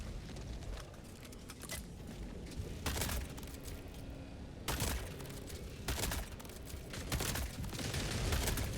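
In Helldivers 2, an autocannon sentry fires repeated heavy bursts, sharp booming shots that land in irregular clusters over a busy battle background, with no talk over them.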